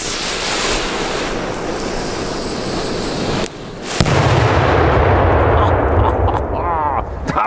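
A Cobra 8 Polenböller firecracker goes off outdoors beside woods with one sharp, heavy boom. A deep rumbling roar follows and fades slowly, after a stretch of loud, noisy outdoor background.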